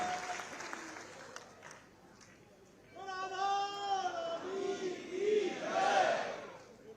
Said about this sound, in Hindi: आप सभी जोरदार तालियां बजाएं